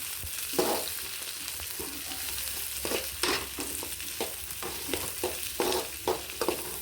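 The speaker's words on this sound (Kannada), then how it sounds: "ಸಮ ಫ್ರೈ ಆವೋಡು." Onions fry in a pan for chicken chilly while a utensil stirs them, giving a constant sizzle broken by irregular scraping strokes at close range, with no voices.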